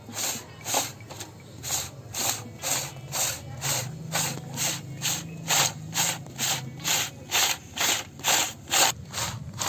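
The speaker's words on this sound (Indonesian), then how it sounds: "kita putar kaleng yang berisi susu sekitar 5 menit dengan es batu yang tanpa dicampur garam krosok" A milk-filled can turned in ice cubes without salt to make ice cream gives a steady rhythmic scraping rattle, about two grinds per second, close and moderately loud with a low hum beneath.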